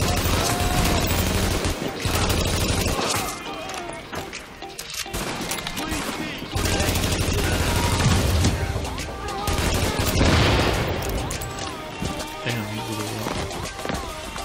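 AK-47 automatic fire in the shooter game The Division, sustained rattling bursts mixed with game noise and music, with a voice talking intermittently over the action.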